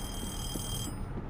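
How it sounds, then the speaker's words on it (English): A telephone rings in the VR game Little Nightmares, a bright electronic tone that sounds continuously over low background rumble and cuts off near the end. "answer the phone."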